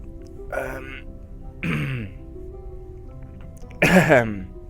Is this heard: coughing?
yes